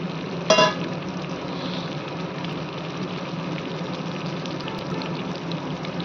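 Potatoes drop into hot spiced oil for matar paneer, a brief loud splash and clatter followed by a steady, low sizzling fry.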